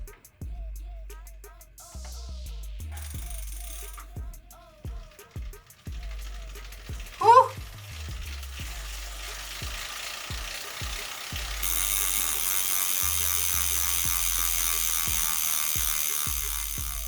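Setting up a JetBlack Victory smart bike trainer brings a run of close ratcheting clicks and mechanical clunks, with one sharper rattle midway, then a steady hissing whir takes over.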